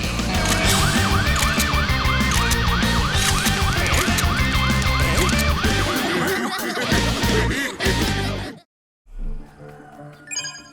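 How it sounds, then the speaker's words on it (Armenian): A fire engine siren wails in an animated dinosaur cartoon, a loud repeating rising-and-falling tone over a busy music and effects mix that cuts out abruptly near the end. "Ահա, հրշեջները եկան, հիմա ամեն ինչ կհանգցնեն։"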